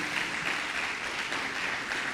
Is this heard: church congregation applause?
yes